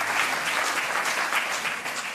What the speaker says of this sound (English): A big round of applause for a very, very impressive cause.